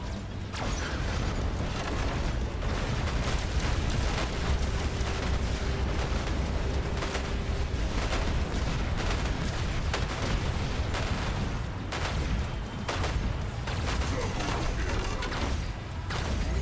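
Heavy explosions from boom weapons in the War Robots video game, with a dense, continuous roar of blasts and grinding mechanical clatter that stays loud throughout.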